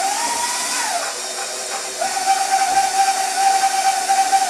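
An electric mixer beats room-temperature butter with white sugar, a steady whirring hum with a rising then settling motor pitch, close and loud throughout, no talking.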